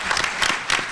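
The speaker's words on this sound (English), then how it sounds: "Let's applaud her." Applause from a panel audience at a women's forum on violence and gun control, a steady dense patter of many hands filling the short moment without speech.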